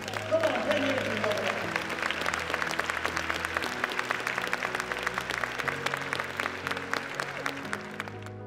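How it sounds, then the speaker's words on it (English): Applause from a motivational-speech audience fills the room, steady and fairly loud for the whole stretch, with music or tonal sound running underneath. "Give yourselves a round of applause"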